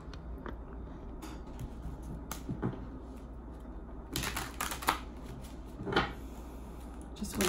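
A deck of tarot cards is shuffled in a quiet room, giving soft, intermittent riffles and taps that come in short bursts of handling.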